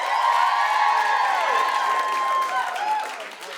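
Audience at a stand-up comedy show applauds and cheers in a steady, loud burst of clapping with whoops, easing off near the end.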